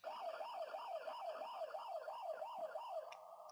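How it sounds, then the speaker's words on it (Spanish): Alarm siren from an AVTECH AVN80X security camera system, a loud, steady electronic wail that sweeps up and down about every half second for three seconds, then cuts to a flat tone. "Se escucharía una sirena y se encendería y apagaría la luz."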